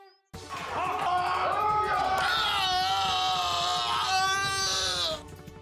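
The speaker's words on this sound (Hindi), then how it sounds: "लगता है कि धूम्रक्ष युद्ध में मारा गया है, क्योंकि ये चीख धूम्रक्ष की ही थी।" A loud, sustained dying scream from the demon Dhumraksha in a battle in a mythological drama, wavering and strained, lasting about five seconds before cutting off.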